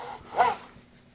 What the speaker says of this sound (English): I'm gonna wipe this off with my clean and dry rag.